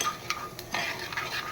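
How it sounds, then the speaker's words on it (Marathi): Mustard seeds and fennel crackle and pop in hot tempering oil with asafoetida, a close, steady spatter broken by a few sharper snaps. "ही मोहरी पण छान अशी तडतडली आहे आणि बडीशेप पण झाली आहे"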